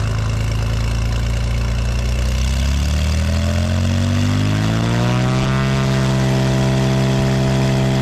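Cirrus SR22 single-engine propeller plane running up for takeoff, a loud steady engine drone whose pitch climbs smoothly as power increases, then holds at a higher, even roar.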